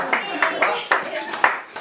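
An audience claps at an anniversary dance performance, with a run of quick, evenly spaced handclaps under overlapping voices.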